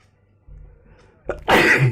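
A single loud sneeze bursts out close by after a brief sharp intake of breath, ending in a forceful spray of air.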